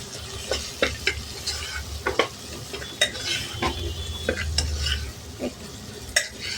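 Washed cluster beans (guar) fry in hot oil with tomato and turmeric in a pan, a low sizzle running under repeated close clinks and scrapes of a spoon stirring, with no voices.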